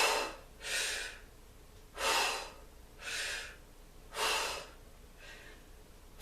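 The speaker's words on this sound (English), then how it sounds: "I'm going to breathe out when it goes up." Five rhythmic, forceful exhales during strength training with weights, each a breathy burst about a second apart, close and clear with quiet gaps between.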